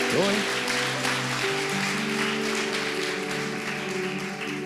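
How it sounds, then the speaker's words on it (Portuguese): A church congregation applauds steadily at a family congress, with sustained clapping under tonal music or voices that hold long notes. "Vamos aplaudir ao Senhor por esse ministério"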